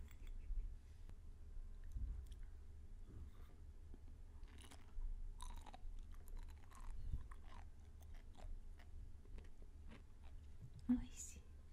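Okinawan sea grapes (umibudo) are chewed close to the microphone, with soft wet pops and small crunchy clicks at an uneven pace, faint against a low room hum.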